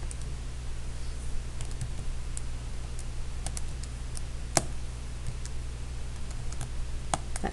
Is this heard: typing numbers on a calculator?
yes